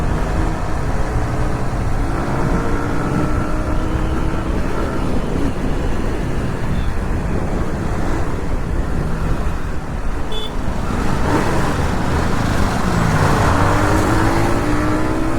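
A motorcycle being ridden on a road, its engine running steadily and shifting through gears, with continuous loud engine drone and wind rush close to the rider for the whole stretch.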